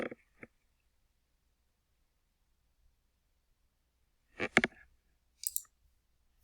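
Computer mouse clicks while working in a Word document: a sharp click near the start, a quick double click around four and a half seconds, and a light tap later, each brief and isolated in near silence.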